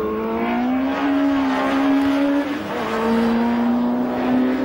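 Campagna T-Rex three-wheeler driven hard on the Dreux race circuit, its engine note rising steadily through the gears with a brief dip at a shift, loud and close with wind noise throughout.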